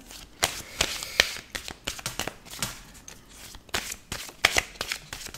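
Oracle card deck being shuffled by hand, with cards slipping out and scattering, giving repeated crisp riffling bursts and light slaps in an irregular rhythm, close and fairly quiet with no talking.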